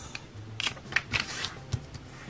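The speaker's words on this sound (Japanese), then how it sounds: "まずはこの折り紙を半分に折ります" Origami paper folded in half for a paper daffodil leaf gives several short crisp paper rustles and creases, close and quiet, with no voices.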